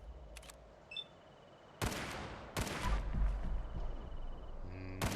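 Gunfire in the game Fallout 4 comes as a few sharp, loud shots and short bursts with reverberant tails, set against a quiet background with faint electronic beeps.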